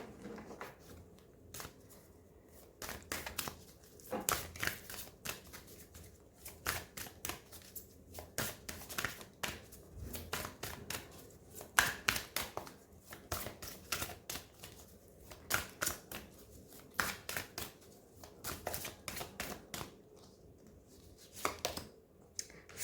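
Tarot cards being shuffled by hand in repeated quick bursts of crisp flicking and slapping, fairly quiet and close, with no one speaking.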